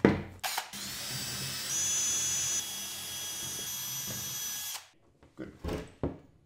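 Power drill drives button head metal screws up from underneath into steel on a surface plate workstation, a close high whine for several seconds with brief starts and stops around it.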